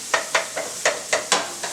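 Sharp, crackling bursts of onions frying come in quick irregular pulses as they are stirred in a hot pan, close and fairly loud.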